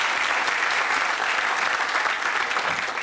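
An audience at a Tanger Outlets groundbreaking ceremony applauds Councilwoman Karen Tolles with steady, dense clapping from a crowd that stays loud and even from start to finish.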